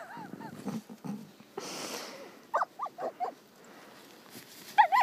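A young Aussie puppy barks while burrowed under snow. Short, muffled barks come in a quick cluster, then one sharper yelp, over a quiet outdoor background with a few soft rustles.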